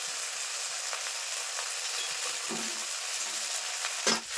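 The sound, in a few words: spices with cumin-ginger paste frying in pan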